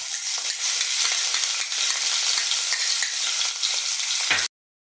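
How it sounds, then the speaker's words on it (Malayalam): Crushed onions frying in hot coconut oil, a loud, dense, continuous sizzle up close that runs steadily and then cuts off abruptly into silence near the end. "ഈ വെളിച്ചെണ്ണയ്ക്ക് ഒന്ന് ചൂടായി വരണം അപ്പോൾ നമ്മുടെ വെളിച്ചെണ്ണയ്ക്ക് ചൂടായിട്ടുണ്ട് അതിലേക്ക് നമ്മൾ ചതച്ച് വെച്ച ഉള്ളിലേക്ക് ഇട്ട് കൊടുക്കാം"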